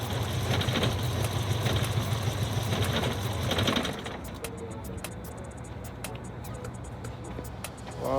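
A Subaru Forester engine with rod knock runs after a coil and injector repair, giving a busy, rapid ticking clatter that drops to a quieter idle partway through, heard close.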